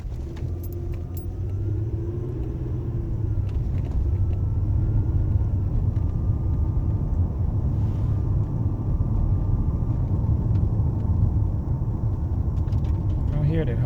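A 2005 Lexus ES 330 with a suspected failing wheel bearing or worn tire, heard from inside as a steady low road rumble and drone throughout while driving.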